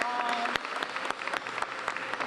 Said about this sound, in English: Let's give all of our honorees another great round of applause.